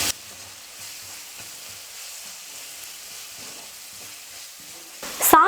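Chilli parotta masala with red chilli sauce is stirred in a hot pan, producing a soft, steady low sizzle with light stirring, then a sudden loud clatter and scrape right at the end.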